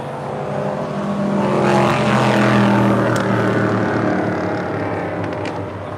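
Boeing 777-300ER airliner turning for a south side departure at LAX, a steady jet engine roar that swells and then holds, heard from nearby on the ground.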